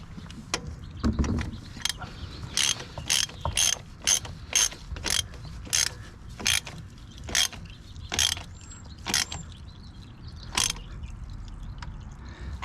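A socket ratchet clicks during an oil change on a Kawasaki Ninja 400 or 500. Quick close-up bursts of sharp metallic clicks come in an uneven rhythm over a low background hum.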